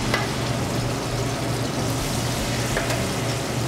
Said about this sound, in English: you're gonna sizzle a little bit the garlic